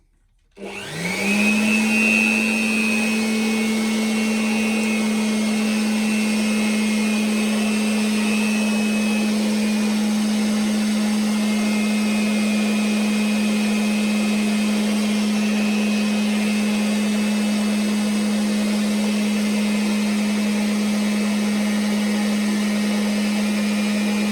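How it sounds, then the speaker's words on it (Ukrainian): A hair dryer and a blower run together on an inverter, starting up with a rising whine and then holding a loud, steady motor hum and airy rush throughout, with no talking. "Другий етап фен плюс дуйка."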